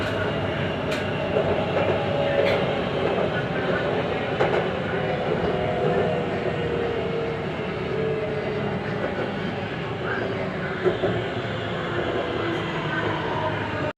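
Steady rumble of a Bangkok MRT Blue Line train from inside the car, riding through Thonburi from Bang Phai toward Lak Song, with continuous rolling noise and occasional faint clicks throughout.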